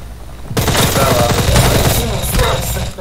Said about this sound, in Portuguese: tô tomando tiro, falei? Balaço daqueles poderosos.